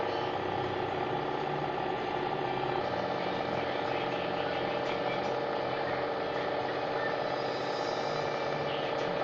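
Two electric motors with speed controllers drive a 2000 watt air flux generator, a steady dense mechanical whir and hum that holds constant and loud throughout with a slight change in low tone a few seconds in.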